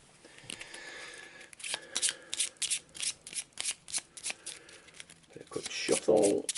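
A deck of cards is shuffled for an Arkham Horror board game, with a run of quick, crisp riffling bursts building to a louder flurry near the end, close by and with no talk over it.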